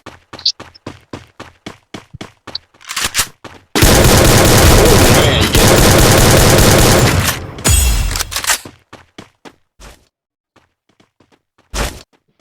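Rapid gunfire in the Free Fire mobile battle game: quick runs of single shots, then a long dense burst of sustained fire, more scattered shots afterward and a last lone blast, loud and close.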